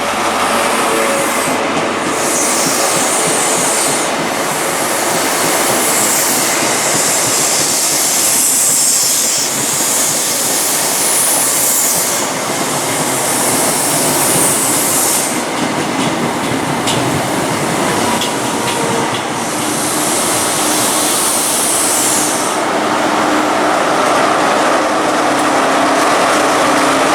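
A train led by power car 43134 passes through Reading station with a loud, continuous rumble and rattle, while bright hissing bursts come and go above the steady roar.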